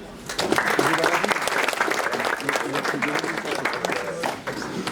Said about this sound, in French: Tiens, on peut applaudir.